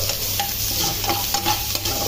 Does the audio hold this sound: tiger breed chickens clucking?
no